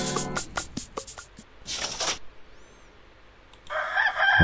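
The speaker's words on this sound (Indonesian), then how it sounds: "Ayam kate." A bantam rooster crows in an educational video game, a short cock-a-doodle-doo call standing alone after a few clicks and a brief burst of game sound.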